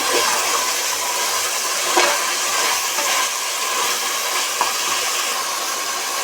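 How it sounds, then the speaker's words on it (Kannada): Mutton sizzling as it fries with salt and turmeric for biryani, a steady close hiss running throughout with a few faint clinks from the pan. "ಉಪ್ಪು ಅರಿಶಿನ ಎರಡು ಹಾಕಿ ಚೆನ್ನಾಗಿ ಫ್ರೈ ಮಾಡ್ಕೊಳ್ಬೇಕು"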